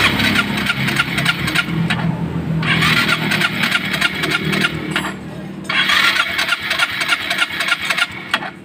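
A Yamaha Mio Soul i 125 scooter engine cranks and sputters in loud, rough bursts after a fuel pump filter change, turning over repeatedly without settling into a smooth idle.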